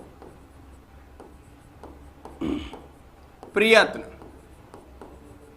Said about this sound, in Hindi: चलिए, अब मैं यहां पर लिखता हूं